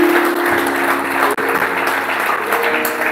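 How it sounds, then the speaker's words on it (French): A church congregation claps and cheers together in a sustained burst of applause, dense and continuous with a few voices rising above the clapping. "Acclame Jésus"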